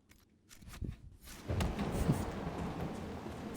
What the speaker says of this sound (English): That was a lightning strike.